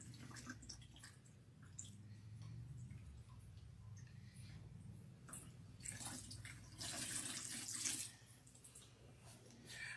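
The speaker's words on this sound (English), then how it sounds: "When I'm rinsing, the water is now, coming out clean." Water runs over hair and scalp during rinsing on wash day, a soft, faint stream with light splashing and a brief louder gush, no one speaking.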